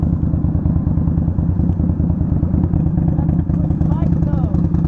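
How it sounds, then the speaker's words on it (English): A clean motorcycle rumbles close by at a parade, its engine a loud, steady low-pitched drone that holds throughout with a faint clatter on top. "That's a clean bike though."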